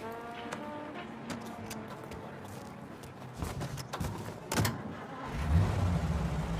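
A car engine in the Mafia game, idling low beneath clicks and street sounds, then rumbling louder near the end as the car pulls away.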